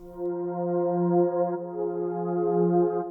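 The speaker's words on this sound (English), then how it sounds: "I'm gonna take this MIDI and I'm gonna transpose it up an octave, and it sounds like this." A smooth, sustained synth tone holds a slow melody transposed up an octave in Cakewalk by BandLab, with soft note changes, steady and clear with no voices.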